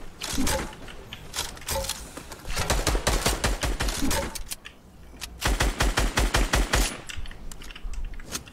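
Rapid automatic gunfire crackles in a battle royale shooter, loud bursts of close shots in three clusters with brief gaps between, the player under fire from an AK-type rifle.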